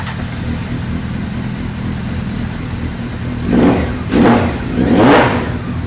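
A modified carbureted motorcycle engine idles with a steady low rumble, then revs in three rising bursts toward the end, each blip louder and longer than the last.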